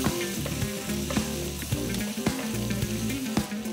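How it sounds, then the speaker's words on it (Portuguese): Bacon fries in a pan with a splash of olive oil, a dense continuous sizzle up close with occasional crackles and soft knocks of a utensil. "porque a gente vai colocar o bacon e o bacon vai soltar a gordura"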